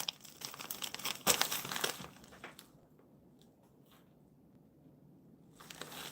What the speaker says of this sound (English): After all that, I crinkled the label.